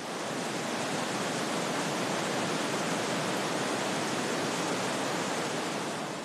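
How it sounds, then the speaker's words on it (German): Wild mountain stream torrent below the Dachstein glacier in Austria, a loud, steady roar of rushing whitewater that fills the whole span without pause. "Das leise Plätschern ist zu einem wilden Tosen geworden."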